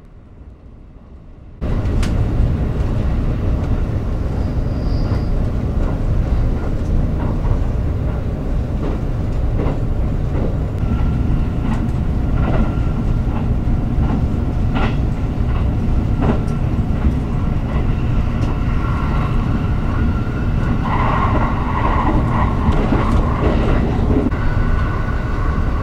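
Interior of a JR 783 Hyper Saloon limited express train at a 130 km/h top speed near Tosu and Saga: a steady, loud rumble of wheels on rail with faint rhythmic clicks throughout, no voices.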